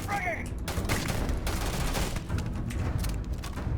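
Gunfire from a semi-automatic weapon in the video game Starfield, a dense run of shots sounding loud and continuous for the whole stretch, with brief voice sounds near the start.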